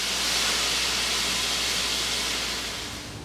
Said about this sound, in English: While we have that sizzling in the pan